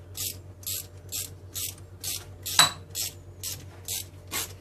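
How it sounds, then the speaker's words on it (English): Clamps on a boost leak tester for a supercharged M65 NB MX5 ratchet in repeated short bursts, about ten rhythmic clicking strokes close by, with one sharper metallic snap near the middle over a low steady hum. "it's obviously now clamping down the boost leak tester"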